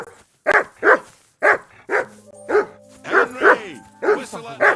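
A dog in Kingdom Come: Deliverance 2 barking loudly and insistently at close range, a rapid run of paired barks while a low voice speaks underneath.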